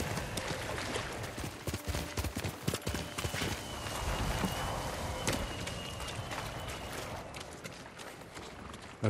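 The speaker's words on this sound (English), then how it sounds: "Good horse, Kage." Horse hooves clip-clop at a gallop in the Ghost of Tsushima video game on PS4 Pro, a steady rapid rhythm of hoofbeats that carries loud and close for the whole stretch.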